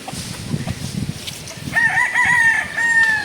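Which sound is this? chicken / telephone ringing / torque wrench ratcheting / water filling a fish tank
chicken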